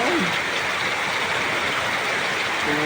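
Rainwater runs along a pathway during Typhoon Kristine, a steady broadband rushing wash that holds throughout, with a brief voice heard faintly near the start.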